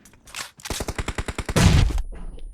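PUBG Mobile gunfire, a fast, loud burst of about a dozen evenly spaced automatic shots, followed by a heavier crash or explosion that fades out.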